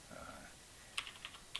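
A few light, scattered keystrokes on a computer keyboard, faint and close, with a short pause before the clicks begin.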